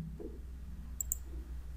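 Two quick, crisp computer mouse clicks close together sound over a quiet room hum, with no talking.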